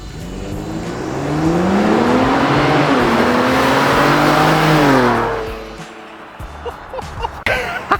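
A Ford Police Interceptor passes close by at a slow, steady pace, its engine droning loudly for several seconds before fading away.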